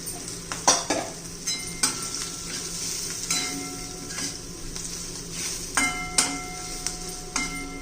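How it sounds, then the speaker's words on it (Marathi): Green chillies stir-fry in hot oil with crushed peanut powder, a steady close sizzle broken by repeated scrapes and clinks of a spoon against the pan, with no voices. "मस्त असं मिरच्या तेलामध्ये परतून घ्यायच्या शेंगदाण्याचा कूट घालायचा"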